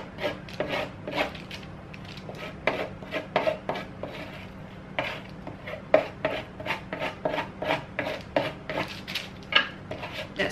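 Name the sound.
knife scraping butter with Vegemite on toast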